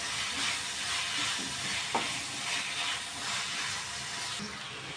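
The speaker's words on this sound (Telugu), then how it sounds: "ఇవన్నీ కొంచెం వేయించుకోవాలి" Peas and diced potatoes frying in a pan for aloo matar pulao give off a steady, moderately quiet sizzle and hiss, broken once by a brief clink partway through, with no talking.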